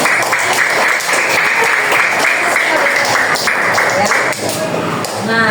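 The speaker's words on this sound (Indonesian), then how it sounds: "Tepuk tangan buat Ananda." A class of fourth-grade pupils claps together for a classmate, dense and loud applause filling the room for several seconds, with voices mixed in before it tapers slightly at the end.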